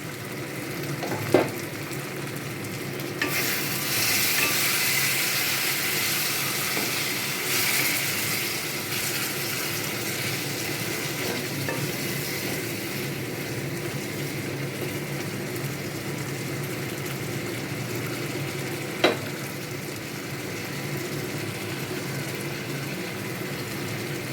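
Masala and ground paste fry in a pan for butter chicken, a continuous close sizzle broken by a few sharp clinks of a spoon being stirred against the pan.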